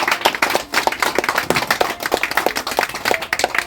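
An audience at a poetry gathering by the O.V. Vijayan memorial in Palakkad claps steadily, a sustained patter of many hands at moderate distance, fairly even without voices.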